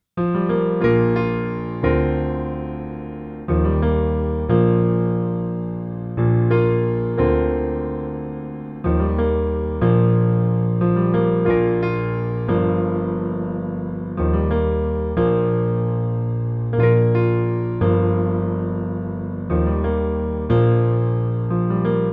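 A piano plays the first verse of a song, full chords with melody on top, repeating phrases in an even rhythm, played alone without voices.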